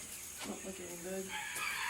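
A blue slate turkey gives a brief burst of calling on a farm, short warbling gobble-like notes at moderate distance, fairly faint over low background noise.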